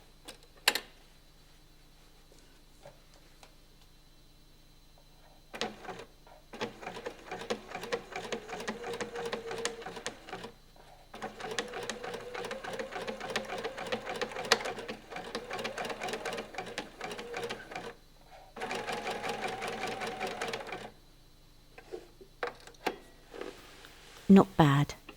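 A sewing machine topstitches the fly zip on a pair of jeans, running in several bursts of rapid, even needle ticking separated by pauses, with short stretches of reverse stitching and a few handling clicks.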